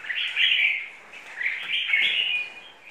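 An oriental magpie-robin, a kept cage bird, sings a loud, continuous run of bright chirps and whistles in two sustained bursts, close and alone with no talk.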